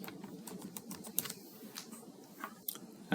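Someone types on a computer keyboard while entering details in personal finance software. Quiet, irregular key clicks patter close by with a few sharper taps.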